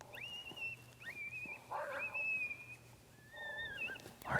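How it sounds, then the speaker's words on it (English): An electronic predator call plays an aggressive coyote fight sound outdoors on a hunt: a series of high, wavering yelps and whines with rough, growly bursts, moderately loud against a quiet field. "I'm going to roll over to a little bit more aggressive fight sound here."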